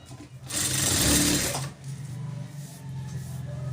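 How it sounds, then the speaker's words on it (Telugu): An electric sewing machine runs close and loud, stitching the back lining of a blouse with a fast steady whir that surges, eases off, then continues at a lower hum. "ఇలా నీట్గా కుట్టేసుకోండి."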